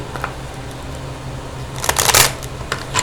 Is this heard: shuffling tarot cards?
yes